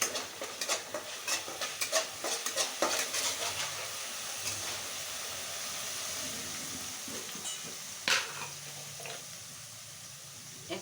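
Ginger paste frying in a pan for ghugni, with scraping stir strokes and clinks over a low steady sizzle, busier at first and then settling into a quieter fry.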